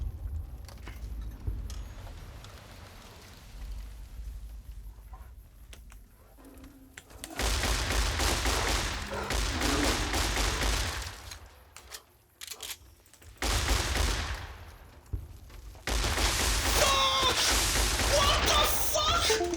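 Gunfire in Fallout New Vegas comes in dense bursts of rapid shots, loud and close, separated by quieter gaps, with a voice talking at points.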